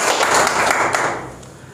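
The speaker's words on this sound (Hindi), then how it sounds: "एक बार जोरदार तालियां हो जाए इस कंपनी के लिए" An audience at a business presentation for a trading company gives a brief burst of dense clapping that fades out quickly.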